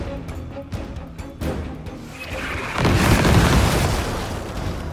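Explosive enemies detonating in Gears Tactics: a rumbling blast swells after a couple of seconds into a loud, noisy roar, preceded by quieter thumps and game ambience.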